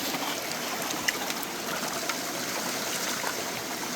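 Swift stream water rushes continuously in Pennsylvania glacial till country, a dense, steady hiss and burble with a few faint knocks and no speech.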